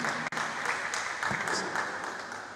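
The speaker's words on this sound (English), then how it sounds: "Please, let's give Mr. Omotosho a round of applause" Applause rises from a seminar audience for a panelist at an annual general meeting, a steady, fairly close spread of many hands clapping with a brief dip near the start.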